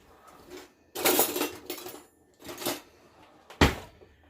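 A bowl is set down on a kitchen counter with a few clattering knocks and clinks, then one sharp final thud near the end.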